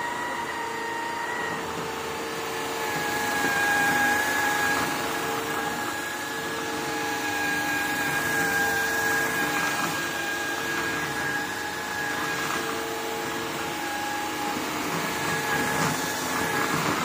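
An ILIFE W90 wet-dry vacuum cleaner runs continuously across a floor as it cleans up spilled milk chocolate, giving a steady whirring hum with a high motor whine that varies slightly as it passes back and forth.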